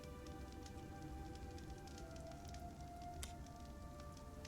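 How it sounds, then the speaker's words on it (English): Rain pouring down on a roof, a steady dense patter of drops that stays even and fairly faint, with one brief sharper tap partway through. "just rain begins to pour down."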